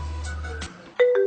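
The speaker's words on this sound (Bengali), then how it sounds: "আরে এই সময় আবার কি ফোন দিল রে?" A phone ringtone plays a short electronic melody of a few clear tones, close and moderately loud, ending abruptly after a brief pause.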